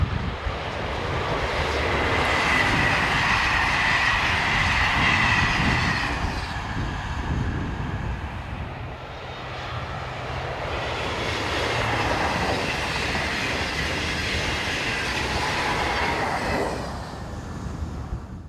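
A Paris passenger train hauled by a BB 7200 electric locomotive rumbles past on the Mâcon to Chalon-sur-Saône main line in a strong wind, with a loud, steady roar and rolling wheel noise that dips briefly midway, then swells again and fades slightly.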